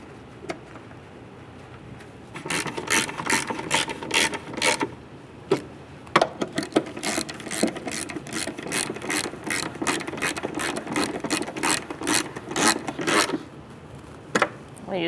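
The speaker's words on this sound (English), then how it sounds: "And you're going to put your bolts back in. Start with hand tightening first." A ratchet clicks in quick bursts as tail light assembly bolts are tightened on a 2014-2018 Subaru Forester, close and fairly loud, in several runs separated by short pauses.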